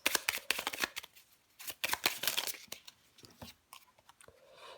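Tarot cards being shuffled close up: quick riffling flutters and papery slaps in several bursts, with short pauses between, soft and no talk.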